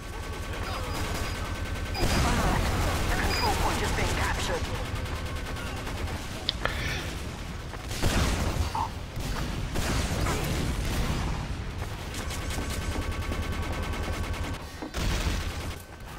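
Rapid gunfire from the video game Team Fortress 2 fills the whole stretch, dense bursts of shots and explosive cracks layered over constant game noise, loud and close.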